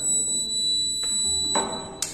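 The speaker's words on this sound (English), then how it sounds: "when we keep this sensor into soil, the buzzer makes sound" A soil moisture sensor's buzzer sounding a steady high electronic tone in dry soil, continuous with a couple of brief clicks and bursts near the end.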